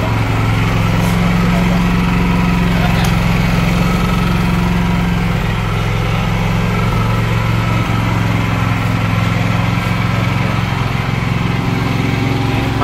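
An iPower 10 kVA inverter generator runs close by with a loud, steady engine drone and low hum, its pitch easing down slightly partway through and then holding, while faint voices sound underneath.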